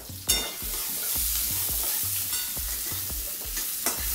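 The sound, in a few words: sautéing onion in a hot pan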